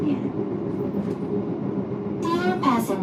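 Steady low rumble inside an executive class passenger train carriage of Kereta Api Indonesia, a continuous rolling drone, with a voice speaking over it near the end.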